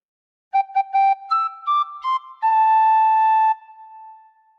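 A tin whistle plays a short Jingle Bells phrase: three quick repeated notes, then a few stepped notes ending on one long held tone, clear, close and alone.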